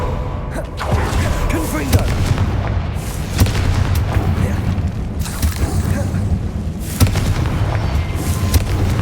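Explosive fire spell blasts from the game Hogwarts Legacy, a loud continuous rumble of booming impacts with several sharp bursts standing out, layered under dense game ambience.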